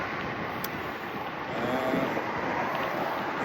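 Strong wind buffets the microphone on a beach at O'Connor beach during a bike ride, a steady broadband roar that swells slightly midway, with no voices.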